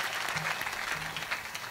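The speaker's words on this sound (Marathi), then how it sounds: "आमच्या भाविकासाठी जरा वाचू आपण टाळी सर्वजण." An audience at a Marathi kirtan claps along in a brief burst of hand claps, fairly close and irregular.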